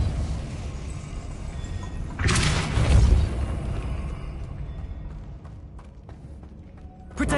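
Depulso force spell cast in the Hogwarts Legacy video game: a single loud whooshing boom bursts out mid-clip over steady ambient game sound, then fades, with a short sharp hit at the very end.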